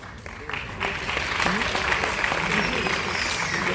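An audience claps in an auditorium at a music event, dense steady applause that swells after a moment and carries on evenly while someone speaks over it.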